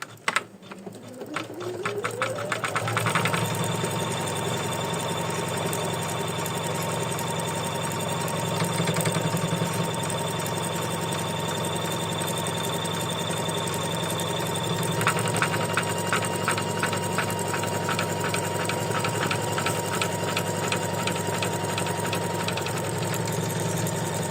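An embroidery machine stitching the backing onto the front of a lace lavender ornament revs up and then runs in a long, steady mechanical whir with rapid needle clatter and a slight change in pitch partway through, close and loud, with no talk.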